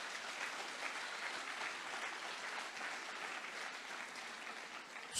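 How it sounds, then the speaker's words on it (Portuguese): A church congregation applauds steadily, a dense wash of clapping that holds at an even level throughout. "Dê uma salva de palmas para Jesus aí."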